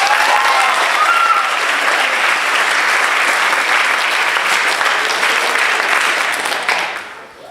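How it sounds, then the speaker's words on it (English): A concert audience at a school playathon gives loud, sustained applause, a dense wash of many hands clapping up close that tapers off at the end. "let's have a warm round of applause for Anna Chris"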